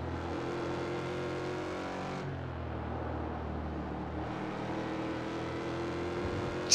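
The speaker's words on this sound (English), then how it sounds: "Sounds good though, the Mustang, even though it's an old car. Purr of the V8." An old Ford Mustang V8 race car at Canadian Tire Motorsports Park drones steadily through the gears, a continuous engine roar with a pitch drop at a shift and a sharp click at the end.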